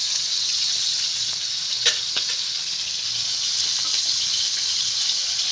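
Shol fish frying in a pan, a steady loud hiss of sizzling oil that runs unbroken throughout, with a few faint clicks and pops over it.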